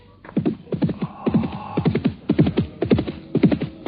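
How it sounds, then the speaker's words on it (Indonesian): Radio-drama effect of horse hooves galloping toward the listener, a fast, rhythmic clatter of grouped hoofbeats that stays close and steady with no talk over it. "aku mendengar derap kuda menuju kemari"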